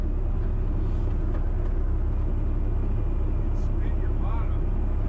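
A skid steer loader works on a large demolition job with a constant low, heavy diesel rumble close by. A few faint clanks and people talking come through over the steady drone.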